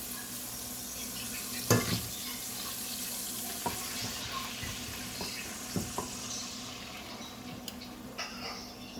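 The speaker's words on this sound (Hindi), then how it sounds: "अब हम इसमें अंडे डालेंगे" Eggs frying with vegetables in a pan for egg fried rice, a steady soft sizzle broken by a few sharp clinks and scrapes of a utensil stirring, close and moderately quiet, with no talking.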